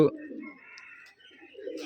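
Pigeons on a Rajshahi pigeon farm, Gerebaj highflyer breed, giving low soft cooing murmurs close by, mixed with a faint higher whistling tone and background farm sounds.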